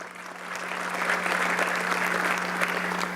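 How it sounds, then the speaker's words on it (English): An audience at a school district State of Schools address claps, the applause swelling quickly and holding steady for a few seconds, no voices over it. "Applause."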